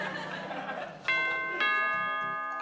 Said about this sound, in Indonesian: Ada bel, noh.